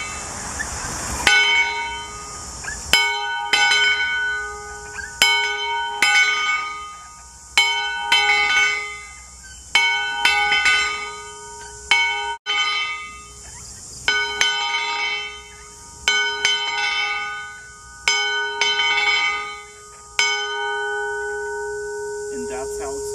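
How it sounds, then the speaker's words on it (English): A large steam locomotive bell rings repeatedly, about a dozen loud clanging strikes at fairly regular intervals, each ringing out and decaying before the next. "you can even ring the locomotive's bell as well."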